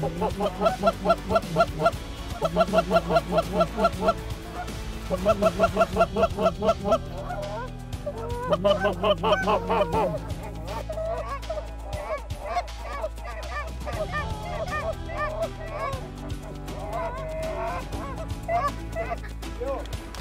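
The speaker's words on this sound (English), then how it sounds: "these geese are coming in like they, they mean it" Giant Canada geese flying in to land, honking in repeated bursts, loud and close at first, then a scattered chorus of calls fading into softer, more distant honks.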